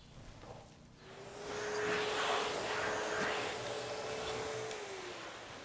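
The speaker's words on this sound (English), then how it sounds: "And this baby is not just any old vacuum. It has a HEPA filter" An upright vacuum cleaner fitted with a HEPA filter, used in a school for cleaning floors, baseboards and under appliances, starts up and runs with a steady, loud broadband whine and a rising tonal hum.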